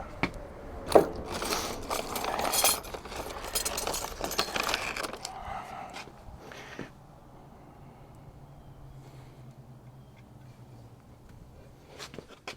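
A greased S-cam and grease slinger go into the brakes of a Kenworth cabover truck: a burst of metallic clanks, knocks and scraping for several seconds, then near quiet with a few faint clicks at the end.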